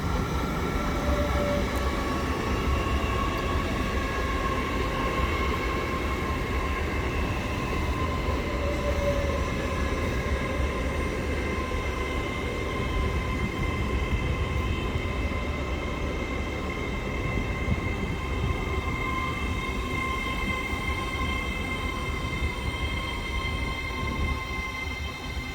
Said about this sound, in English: here we've got another one of LNER's Zoomer sets. This one is off to Edinburgh Waverley